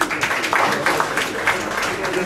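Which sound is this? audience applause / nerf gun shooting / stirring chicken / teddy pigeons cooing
audience applause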